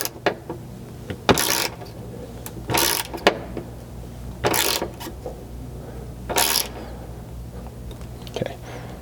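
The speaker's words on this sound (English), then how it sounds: "Once that's compressed, you're essentially just tightening a bolt into a nut." A ratchet tightens a bolt into a riv nut in the floor sheet metal of a 100 Series Land Cruiser, giving short bursts of rapid clicking in about five separate spells with quiet gaps, close and fairly soft.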